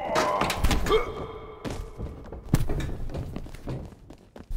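A wrestler crashing onto the floor outside the ring in WWE 2K22, heavy thuds and thumps with impact crashes, a loud hit near the middle, over a busy arena background.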